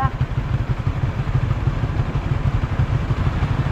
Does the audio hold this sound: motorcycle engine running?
yes